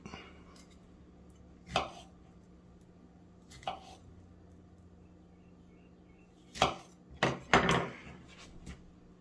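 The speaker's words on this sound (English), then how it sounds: "We want to give our strawberries a rough chop." A knife roughly chops strawberries on a board in a few scattered, crisp cuts, a single stroke followed by a quick cluster of three near the end, over a faint steady hum.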